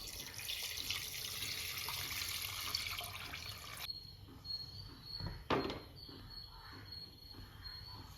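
A broad, hissing rush of running water pours into a pot of mutton biryani for a few seconds and then stops, followed by quieter splashes and faint chirping.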